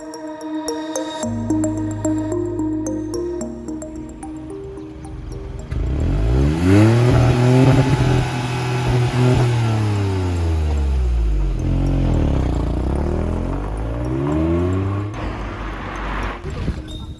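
A 2021 Hyundai i20 N Line engine revs and accelerates through several rising gear pulls, loud and close, with a brief stretch of other sound before the engine takes over.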